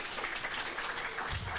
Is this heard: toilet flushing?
no